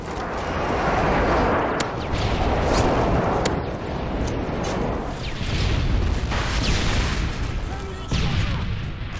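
Call of Duty Modern Warfare 3 multiplayer on the Interchange map, with loud, dense booming explosions and rumbling blasts filling the whole clip and gunfire mixed in, and game voice chatter partly audible.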